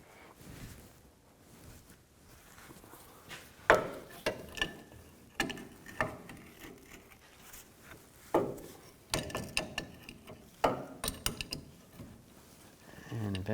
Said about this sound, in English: I'm going to use a large adjustable wrench because I don't have a wrench that's big enough to fit this. And slide this over and loosen it up.